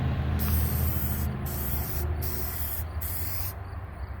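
Several short bursts of aerosol spray hiss close up, four or five quick sprays separated by brief pauses, over a low background hum.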